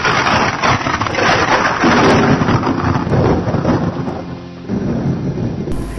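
Heavy, steady rain pours down with rolling thunder rumbling through it, loud and continuous, with no voices.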